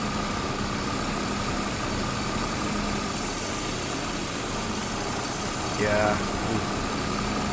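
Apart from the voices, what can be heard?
farm vehicle engine idling in roleplay video game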